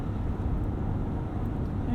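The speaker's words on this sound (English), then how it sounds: "Give a little bit of a tap, and we'll rev up just a little bit, get some deceleration from the engine there." A 2018 Ford F-150 Powerstroke diesel towing 5,500 lbs hums with a steady low engine drone, heard from inside the cab with no clear rev peak.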